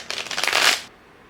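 A deck of tarot cards is riffle-shuffled close by, making a brisk fluttering burst that swells for under a second and then stops dead into quiet.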